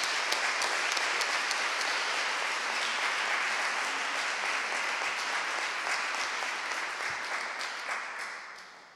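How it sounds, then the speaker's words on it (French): Sustained applause from a conference audience after a talk at a colloquium on gender equality at school, a dense, even wash of clapping that gradually tapers off toward the end. "On va vous applaudir."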